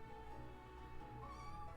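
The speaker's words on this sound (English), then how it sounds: "I'm just trying to move the cat and she's screaming" An angry house cat yowls and meows while being picked up and moved indoors, a drawn-out tonal caterwaul, faint and continuous with no talking.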